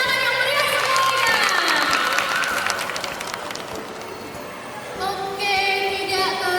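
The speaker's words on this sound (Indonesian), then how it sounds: "berikan tepuk tangan yang meriah semuanya" An audience at an MC school event in Surabaya claps and cheers loudly for several seconds, the crowd noise dipping midway and then swelling again, with musical tones playing over it.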